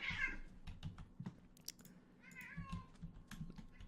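A pet cat meows loudly several times, drawn-out cries over a steady patter of computer keyboard typing and clicking.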